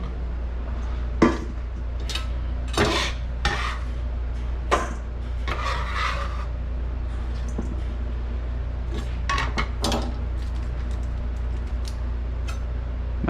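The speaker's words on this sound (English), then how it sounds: "Just gonna put these in a bowl." Diced sweet potato being tipped and scraped into a bowl in a home kitchen, with light clattering, dull knocks and rubbing scrapes scattered across the stretch, fairly close, with no voices.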